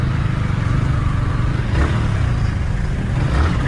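Road traffic of cars and motorcycles near a junction: a dense, steady engine rumble with passing vehicles, loud and continuous, with no voices.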